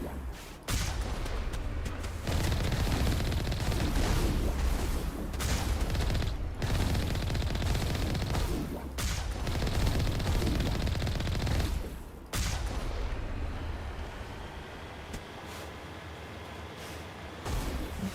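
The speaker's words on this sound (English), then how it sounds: "Geth. Geth, yep. Taking fire." Gunfire from Geth enemies in the video game Mass Effect, dense bursts of rapid automatic shots in repeated volleys with brief gaps, followed by a quieter stretch near the end.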